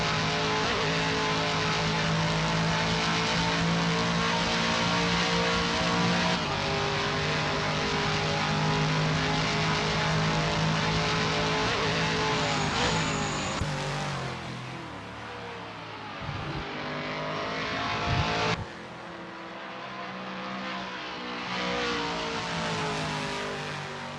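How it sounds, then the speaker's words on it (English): A Toyota Supra LM GT1 race car engine in Assetto Corsa at Watkins Glen drones steadily with layered harmonics, then drops in pitch around a slowdown before building again, loud and continuous with no talk. "Supraman is getting to grips with the Toyota Supra LM GT1 ACLM in this practice session"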